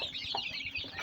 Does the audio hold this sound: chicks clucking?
yes